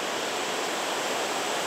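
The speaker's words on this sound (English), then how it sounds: "So it's nothing but white water for 2 miles." Dense, unbroken roar of river white water rapids, loud and close, with a steady hiss and no voices over it.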